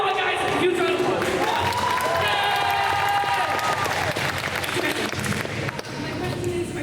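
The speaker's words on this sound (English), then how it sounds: "Huge round of applause." A crowd at a Spooky Empire convention Q&A panel with the It kids cast breaks into loud, sustained applause and cheering that fills the room, with shouting voices mixed through it.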